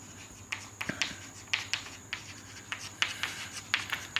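Chalk or marker strokes on a board during a chemistry lesson, a series of short scratchy taps and swishes in an uneven rhythm, heard clearly in a quiet room.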